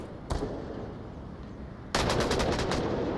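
Gunfire in a tactical shooter match: a single sharp shot early, then a loud rapid burst of automatic fire near the end, over quiet ambient game noise.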